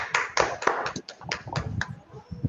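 A handful of participants clapping over an online meeting call, scattered uneven claps from separate microphones, close and fairly loud, thinning out toward the end.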